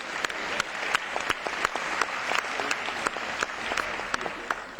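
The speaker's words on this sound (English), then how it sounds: "Yes, applause, please." Audience applause fills a European Youth Event hall right after a vote result is announced, a steady dense clapping with sharp individual claps standing out, moderately loud throughout with no talk over it.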